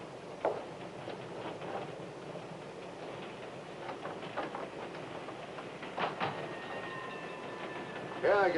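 A passenger train rolls along the rails with a steady low rumble and irregular clicks and clacks of the wheels, and someone talks intermittently over it.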